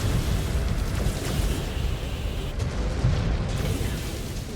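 Missile explosion in the mech combat game Mechwarrior 5: Clans, a dense, loud rumbling blast that fills the whole clip with sustained low roar and debris-like crackle, no speech.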